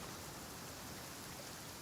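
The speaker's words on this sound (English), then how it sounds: "I love listening to the rain from the courtyard." Steady hiss of rain falling around a courtyard in the game Genshin Impact, a soft even patter with no voices or other sounds over it.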